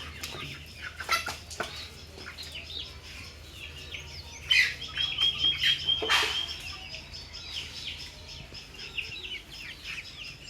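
Chickens at a rural home, given a bowl of water to drink, cluck and chirp in scattered bursts that grow busier mid-clip over a low steady background hum.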